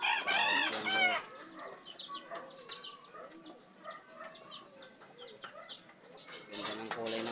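A rooster crows several times, fairly near, with a hen clucking and other birds chirping around it; a voice talks faintly at the start and end.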